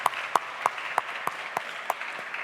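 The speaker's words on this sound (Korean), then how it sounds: "우리가 이 가정 위해서 격려의 박수 하십시다" A church congregation gives encouraging applause in a rhythmic, evenly spaced series of about eight sharp claps in unison over a soft background of scattered hand claps.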